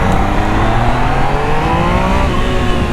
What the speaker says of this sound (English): I'll give it a little bit of gas.